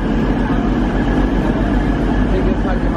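A train sits at a railway station platform, a loud steady low rumble and hum with a constant hiss of machinery throughout, near and unbroken.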